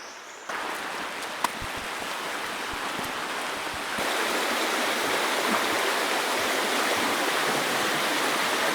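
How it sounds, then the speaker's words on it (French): A river flows beside a forest trail, giving a steady, full rush of water that fills the whole stretch and grows slightly louder partway through, with no voices. "J'adore ça, marcher en forêt. Surtout à côté d'une rivière comme ça."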